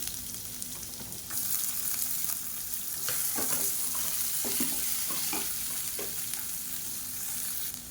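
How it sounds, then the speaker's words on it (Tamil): Garlic cloves and long-sliced big onion hit hot oil in a pan for a radish chutney, giving a steady close sizzle with bursts of crackling and stirring scrapes, no voices. "இது நல்லா வறுத்துக்கலாம் இது கூடவே நாலு பல் பூண்டு சேர்த்துக்கலாம் அது கூடவே ஒரு கைப்பிடி பெரிய வெங்காயம் நீளமாக கட் பண்ணதை சேர்த்துக்கலாம்"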